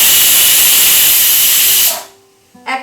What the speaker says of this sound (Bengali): একটা সিটি হয়ে গেলেই আমি ওভেনটাকে অফ করে দিলাম